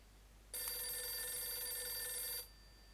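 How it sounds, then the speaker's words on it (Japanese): A telephone rings in the Nintendo DS game Last Window, one steady electronic trill lasting about two seconds, loud and clear with no talk over it. "電話多いな。 出ます。"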